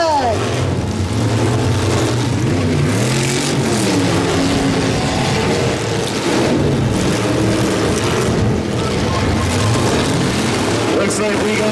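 Full-size trucks rumble and roar together around a demolition derby ring, a loud, dense engine drone with scraping and crunching, while an announcer talks over the din.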